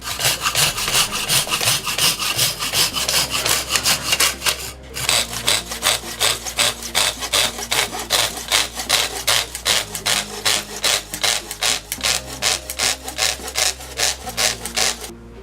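A hand saw cuts through a narrow piece of wood clamped against a sawing guide, making loud rhythmic rasping strokes at a steady pace, with a brief pause before sawing resumes.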